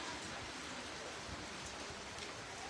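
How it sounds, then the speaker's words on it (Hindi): Heavy rain with strong wind in Losal, a dense, constant hiss of pouring rain that holds steady throughout at low volume, with no voices. "बारिश लगातार पड़ रही है और पड़ती रहे"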